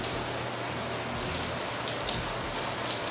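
A freshly repaired bathtub shower head sprays a full, steady stream, the dense rain-like patter of water hitting the tub continuing close and unbroken.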